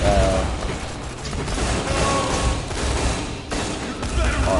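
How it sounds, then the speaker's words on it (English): Sustained assault rifle fire in the looter-shooter game Borderlands, a dense, continuous rattle of rapid shots filling the clip at close range, with game effects layered in. "assault rifles"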